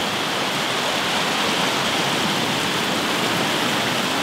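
A river beside a road at a military training ground rushes steadily and loudly, a dense broadband roar of flowing water that holds even throughout with no talk over it.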